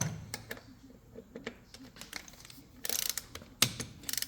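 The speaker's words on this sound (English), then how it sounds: "Take your torque wrench. Again, 15 foot-pounds on these." A torque wrench ratchets on the front wheel bolts of a BMW G310R motorcycle during a wheel installation, producing quiet, close clicking in short irregular bursts with a few sharper metallic ticks and light handling noise.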